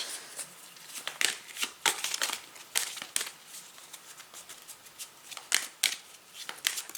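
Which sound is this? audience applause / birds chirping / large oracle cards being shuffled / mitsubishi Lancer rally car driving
large oracle cards being shuffled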